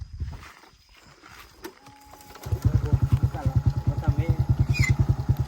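A motorcycle starts up after a quiet pause and then revs with a loud, close, rapidly pulsing engine putter. People talk over the engine noise.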